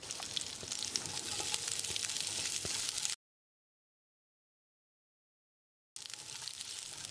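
Cubed large onion sautéing in leftover oil in a pan, a steady hiss and crackle of frying that runs continuously, cuts to silence for a few seconds, then resumes.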